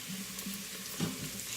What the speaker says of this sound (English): So I will continue to saute this.